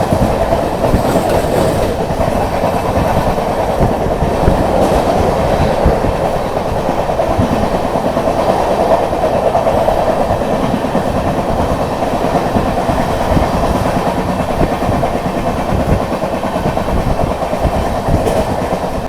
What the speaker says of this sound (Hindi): अभी ट्रेन ने जैसी स्पीड पकड़ी है